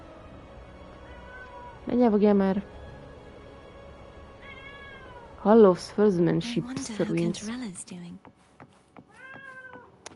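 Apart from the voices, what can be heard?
cat meowing in the video game Wuthering Waves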